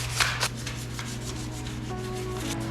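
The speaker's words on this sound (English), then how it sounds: "so let's go ahead and sand this down." Hand sanding a bare dirt bike frame with 600 grit sandpaper, a steady continuous rubbing scrape with a few stronger strokes early on and no talk.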